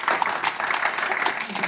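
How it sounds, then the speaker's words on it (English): An audience applauds Aaron at a livestreamed college event, a dense steady patter of many hands clapping at once, close and loud through the whole short stretch. "would you give Aaron a large round of applause for me"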